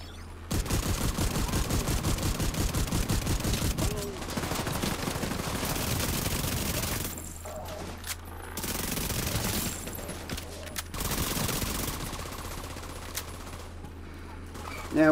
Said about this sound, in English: Hit them with the AC-12.